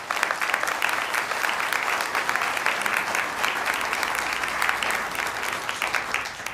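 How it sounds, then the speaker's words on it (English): At the NASA Agency Honor Awards ceremony, a large audience gives a hearty round of applause, a dense, steady crackle of clapping that lasts several seconds. "Let's give them a big round of applause."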